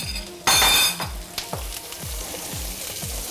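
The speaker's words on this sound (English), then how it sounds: "So now we are melting the butter, and as the butter melts, we're going to add in some onions." Two medium onions are added to melted butter in a pan and start to sizzle and fry steadily. A bright burst is heard as they go in, followed by a regular rhythm of stirring and clinking against the pan.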